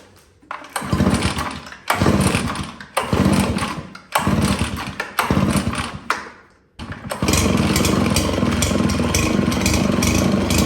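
A Husqvarna 570BTS backpack leaf blower engine being run dry while winterizing. It catches and roars in several short bursts that die away between repeated cranks, then settles into a loud, steady run.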